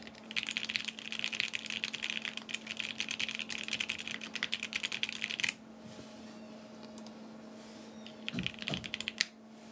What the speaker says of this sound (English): Let's do one more typing sounds test.